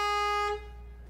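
A loud, steady truck horn blast sounds for about half a second, then cuts off, leaving a quiet low rumble.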